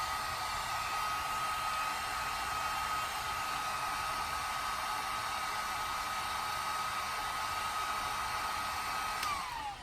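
A heat gun blows steadily on the fender of a BMW M235i, a constant close-up hiss with a faint whine that holds unchanged and cuts off abruptly at the end.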